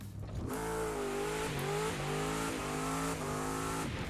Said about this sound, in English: My car does a wheelie!